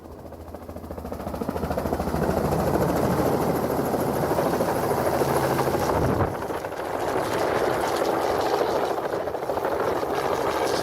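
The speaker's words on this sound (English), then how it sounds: "You're going to see this helicopter bringing in an elk for a recent elk study that we just" A helicopter flies in carrying an elk slung beneath it for a wildlife study, its heavy rotor thump and engine roar building up loud and close, then dipping briefly and holding steady.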